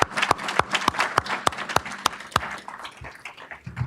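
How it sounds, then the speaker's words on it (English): A small audience at a county board meeting claps in a round of applause for an Olympia High School athlete, with a few strong rhythmic claps near the front standing out above a thinner patter that fades out. "Let's give him another round of applause."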